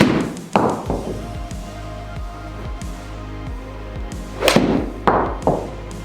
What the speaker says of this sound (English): that's 10 shots hit with the standard Ping Blueprint 7-iron